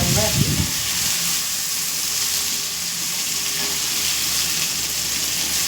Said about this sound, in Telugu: అది కొంచెం ఇంకా ఫ్రై అవ్వాలి